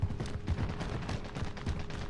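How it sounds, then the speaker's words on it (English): Gunfire in Call of Duty: Modern Warfare Warzone, a steady run of shots and bursts crackling over a rumbling battlefield backdrop for about two seconds, moderately loud with no speech over it. "Oh, they're shooting."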